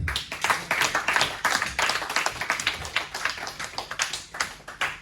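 A church congregation claps and acclaims together, a dense run of hand claps and cheering voices filling the hall steadily for several seconds.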